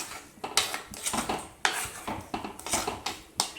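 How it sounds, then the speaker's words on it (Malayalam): A spoon stirs a tender jackfruit masala curry with coconut milk in a pot, producing close, repeated clinks and scrapes against the metal in an uneven rhythm. "ഒന്ന് ഇളക്കി കൊടുക്കാം."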